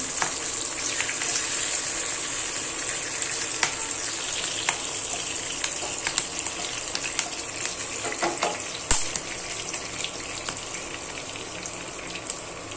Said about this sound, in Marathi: तर हे कोबीचे पत्ते आहेत ना असे भाजून घ्यायचे